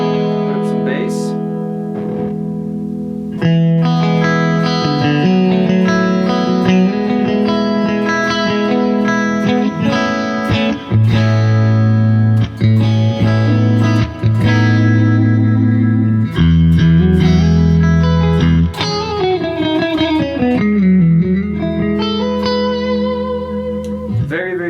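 A Carvin DC 400A electric guitar through an amplifier on a clean setting plays sustained chords and riffs loudly and continuously, with heavy reverb and a thick, saturated, distorted, effects-laden tone.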